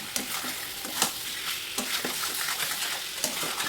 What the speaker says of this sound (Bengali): খুব ভালোভাবে আবারও নাড়াচাড়া করে নেব